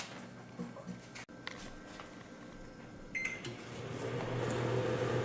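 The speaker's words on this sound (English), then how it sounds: "putting the bar of ivory soap in the microwave for exactly 2 minutes straight" A microwave oven runs with a steady hum while a bar of Ivory soap heats inside, with a brief click near the start and the drone growing slightly fuller toward the end.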